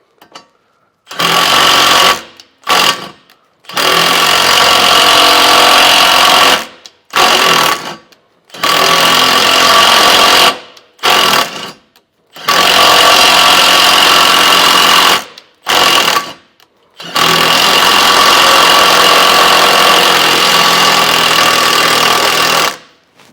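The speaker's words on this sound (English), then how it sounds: "it's going to cut threads into our frame, and we're just going to keep running in and out" A power tool drives thread-cutting bolts into a truck frame in loud, close bursts of whirring grind, stopping and starting about ten times with brief silences between runs.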